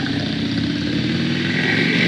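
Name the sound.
motorcycle riding past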